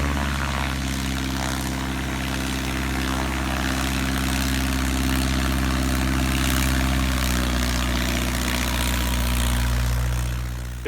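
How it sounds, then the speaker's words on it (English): Engine of an experimental Piper J3 Cub airplane with a souped-up motor, droning steadily and loudly throughout at a STOL contest, with a constant low propeller hum and no talk. "Experimental J3 has a souped up motor"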